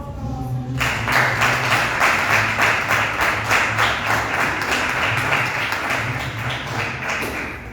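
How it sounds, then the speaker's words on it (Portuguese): A church congregation claps hands together in a steady, even rhythm, loud and sustained, with a low hum of music or voices underneath. "as palmas para o nosso Senhor"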